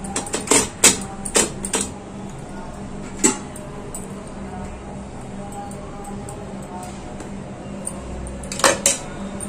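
A spoon or hand taps a container of banana ice cream mixture, giving a quick cluster of sharp clinks and knocks, a quiet pause, then a few more taps near the end.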